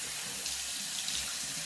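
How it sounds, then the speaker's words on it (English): Tap water runs steadily into a sink while a face is rinsed, a continuous close hiss and splash with no talk. "time to rinse. And when I rinse my face off, I just put my face in the water and go."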